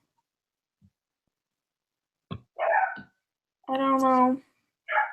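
Dogs left outside let out about three separate barks and yelps, moderately near, breaking a mostly quiet room where a person briefly speaks.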